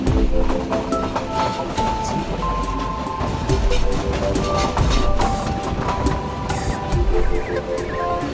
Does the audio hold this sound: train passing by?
yes